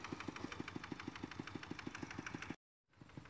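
A G3000 Seva tractor with an RD85 DI2S engine idles close by, a steady rapid chugging pulse at even rhythm that cuts out abruptly near the end, then resumes faintly after a brief silence.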